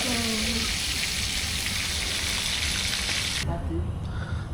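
Loud, steady sizzling of food frying in hot oil while cooking maqluba at home, a dense crackling hiss that cuts off abruptly near the end.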